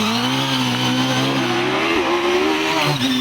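The OMS PowerTech V8 hillclimb race car, with a 2.8-litre Hayabusa-based engine, screams continuously at high revs up a technical hill course at Loton Park, a loud, sustained engine note with slight pitch shifts as it changes gear.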